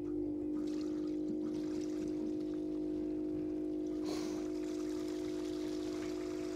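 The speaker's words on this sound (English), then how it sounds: "So I'm gonna pull that and now hit the waste pump switch." An RV black tank waste pump hums steadily with a strong constant motor drone throughout, near and continuous, with a faint watery flow and a brief clunk partway through; no talking.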